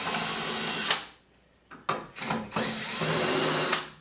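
A power driver whirs in short bursts, loud and close, backing Phillips head screws out of an LCD TV's base and base post, with brief pauses between runs.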